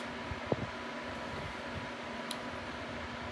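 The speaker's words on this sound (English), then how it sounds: "If you hear roaring in the background, it's my fan." Electric fan roaring steadily in a room, a constant soft whooshing hiss with a faint hum throughout, low and even with a couple of small knocks and no talking.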